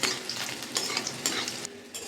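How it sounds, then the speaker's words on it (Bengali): Bitter gourd fries in a pan, giving a close, steady sizzle broken by a few sharper bursts as it is stirred. No voices are heard. "করলাটা আমার ভাজা হয়ে গেছে"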